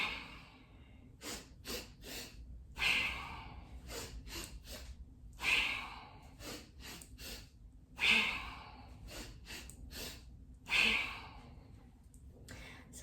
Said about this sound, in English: So that is basically a breath of joy.